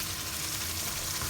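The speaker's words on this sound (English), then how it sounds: "Saute this good, mix it well." Chili paste sautéing in a pan for pork vindaloo, a dense, loud and steady sizzle heard close up without pauses or talk.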